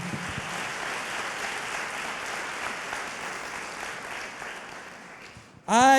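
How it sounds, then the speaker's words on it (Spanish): An audience at a church service applauds loudly in a steady, dense patter that holds for several seconds, then a voice cuts in sharply at the end. "Aplauda fuerte su gloria"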